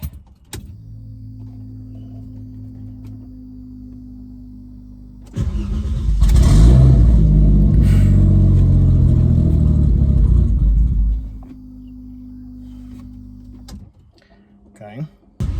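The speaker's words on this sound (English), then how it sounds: "let's go for a little test drive." A turbocharged Mercedes W203 sits at a low idle, then surges into a loud, close run of acceleration for several seconds before easing back to idle, with a voice speaking near the end.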